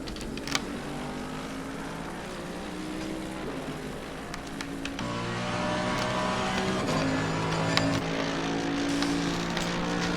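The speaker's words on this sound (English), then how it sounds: "As we are now on board with Craig Bray in the Mercedes-AMG GTR going down the mountain straight." Mercedes-AMG GT race car engine howling on a hot lap down the Mountain Straight at Bathurst in Assetto Corsa Competizione, steady loud onboard drone with rising revs and sharp gear changes, no talking.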